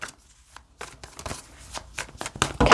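Close-up shuffling of worn tarot cards with crisp riffling bursts and soft shuffles, growing louder toward the end, with no talking.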